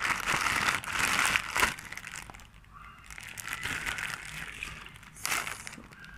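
Plastic packaging around a necklace order crackles and crinkles as hands handle it, in close bursts of loud crumpling separated by quieter moments.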